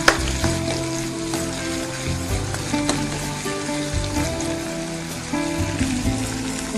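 Tomatoes hitting a hot frying pan for a Gujarati shaak, a steady close frying sizzle with stirring clatter, loud and continuous with no talk over it.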